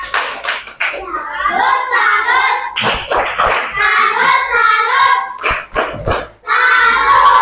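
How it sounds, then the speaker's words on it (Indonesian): Schoolchildren in a classroom perform a rhythmic clapping cheer for a classmate, loud sharp hand claps punctuating chanted children's voices in a patterned beat. "Kasih tepuk salut untuk Tata."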